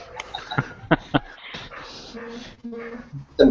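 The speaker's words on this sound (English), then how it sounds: "The only thing I could hear was Mr. Nikon's like kennel of dogs freaking out" A kennel of dogs yips and whimpers in short, sharp bursts with a few whining tones, a little distant and mixed with people talking.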